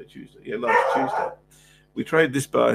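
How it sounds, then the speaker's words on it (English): A dog barks and yips a few times in short bursts, close by, while someone talks over it. "You'll excuse my dog"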